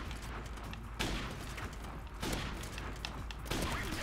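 Sniper rifle fire in the video game Modern Warfare Remastered, played as quick scoping against bots: three loud sharp shots at roughly 1.2-second intervals over a steady game ambience, with no talk.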